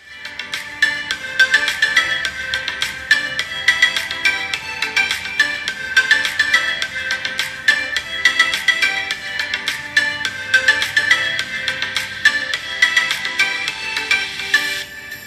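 Music played back through the speaker of a vivo Y51 phone with audio boost, a continuous bright, loud tune with a steady beat and ringtone-like tone.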